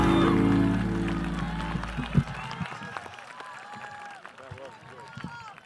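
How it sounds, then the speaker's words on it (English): Audience applause at a high school graduation ceremony, loud sustained clapping from a large crowd that fades after about two seconds into scattered claps and murmuring. "please give another round of applause"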